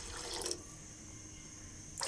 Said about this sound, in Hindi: इसमें मैं पानी ऐड कर दूंगी।